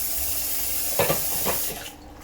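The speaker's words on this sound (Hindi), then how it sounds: "अब इसमें मैं थोड़ा सा डालूँगी पानी ताकि आलू हमारे गल जाए।" Water poured into a pan of potato curry as it cooks, a short splashing pour of a couple of tablespoons that rises briefly over steady sizzling and then fades.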